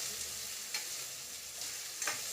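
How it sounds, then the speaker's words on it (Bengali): Onions and green chilies frying in a pan, a soft continuous sizzle with a couple of brief stirring scrapes, no talking. "পেঁয়াজগুলো অল্প ভাজা হলেই আমি তারপরে প্রসেসটা করব।"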